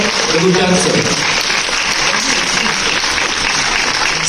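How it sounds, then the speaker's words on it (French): Audience applause for youth winners of the jury's favourite prize at an awards event, dense loud clapping throughout with a voice speaking over the first second. "je vous demande d'applaudir encore une fois le prix coup de cœur avec le métier d'avocate"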